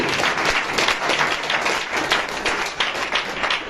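A congregation at a Hindi-language sermon breaks into sustained, dense applause, steady and fairly loud from start to finish, with no voices above it.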